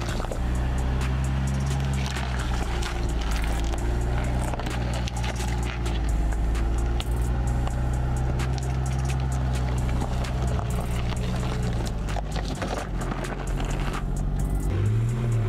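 Land Rover Defender driving off-road over stones, its engine a steady loud drone throughout with occasional knocks and scrapes of rock under the tyres, close to the vehicle, no talk.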